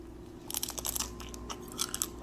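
Close, crisp crunching and chewing of a blue raspberry fruit roll-up filled with strawberry ice cream, a handful of quick bites in bursts, quiet and intimate with a low steady hum beneath.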